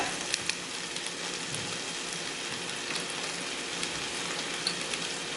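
Ingredients seasoned with cumin and pink Himalayan salt frying in a pan on high heat, a soft even sizzle with faint pops, like light rain, and no talking.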